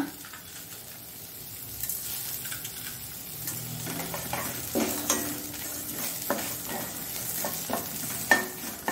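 Carrot chutney, Mangalore style, fried in a pan with salt and sour tamarind added: a steady low sizzle runs throughout, broken by repeated scraping stirs and soft utensil clinks against the pan, close up with no talking.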